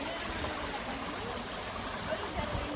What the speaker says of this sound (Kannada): ನೋಡಿ ಅಲ್ಲಿ ನೀರು ಹರಿತಾ ಇದೆ, ಸಂದಿಯಿಂದ ನೀರು ಬರ್ತಾ ಇದೆ